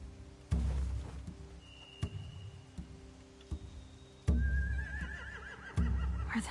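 In The Walking Dead: Final Season, a horse gives a wavering, high whinny near the end, preceded by sparse thuds and clicks over a low, quiet ambience.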